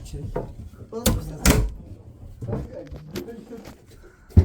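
Aboard a rented yacht, a cabin door is shut with a couple of sharp knocks and thuds, mixed with handling rattles while people talk nearby.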